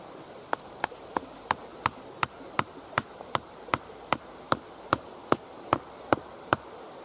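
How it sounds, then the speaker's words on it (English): Wooden stakes with pointed ends being hammered at an angle into the ground at a campfire spot outdoors: a steady series of sharp, evenly spaced knocks, about two per second, fairly close and alone over faint background hiss. "I'm going to hammer into the ground at an angle"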